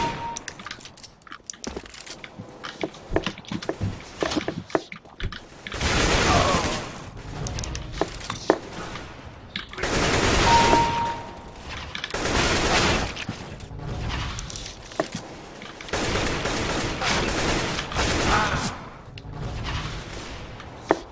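Bursts of rapid gunfire in a first-person shooter game, with mechanical clicks and cracks between the volleys, loud and close, coming in several separate waves.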